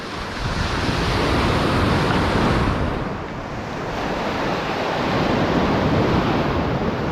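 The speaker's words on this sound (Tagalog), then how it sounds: "dahil magalaw masyado yung tubig" Rough, choppy sea water churns and crashes continuously during a fishing trip, with steady wind buffeting the microphone and no voices.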